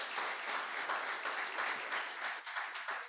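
A congregation claps at a Sunday evening church service, a fairly steady round of applause heard from a moderate distance throughout.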